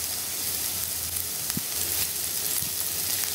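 Sliced onions with salt sautéing in a hot pan, a close, steady sizzle and hiss with a couple of brief stirring knocks.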